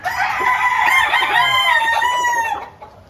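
Gray Bobby Fairchild chickens on a farm crow loudly and close, with a long harmonic rooster call over several seconds, mixed with clucking, and no talk.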